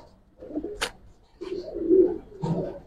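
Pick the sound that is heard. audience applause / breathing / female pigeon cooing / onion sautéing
female pigeon cooing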